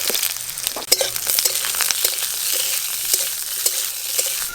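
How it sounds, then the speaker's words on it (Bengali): Potatoes and eggplant sizzling in hot oil in a pan, a continuous bright frying hiss broken by occasional stirring clinks and scrapes, close and steady. "আলু বেগুন ভালো করে ভাজা ভাজা হয়ে গেছে।"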